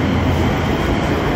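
A local commuter train at a station platform gives a brief, steady, loud rumble of rolling wheels and carriages, with no voices.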